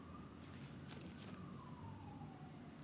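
An ambulance siren wails faintly in the distance, a thin pitched tone gliding slowly downward over a quiet background hiss.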